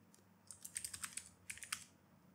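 Fingers typing a password on a Mac keyboard, a quick close run of soft key clicks, a brief pause, then a few more presses, faint and with no talk.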